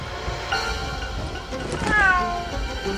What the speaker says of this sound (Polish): Miau, słyszycie koty?